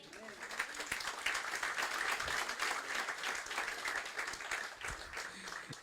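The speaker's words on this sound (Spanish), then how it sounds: "Aplausos para el Señor." A church congregation applauds during a Spanish-language sermon, steady clapping from a crowd at moderate distance, fairly faint and continuous, with some voices mixed in.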